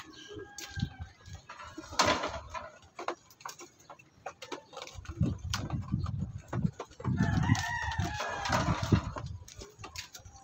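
A rooster crows in a rural setting amid clucking fowl, with rhythmic ticking knocks, and a louder crow toward the end.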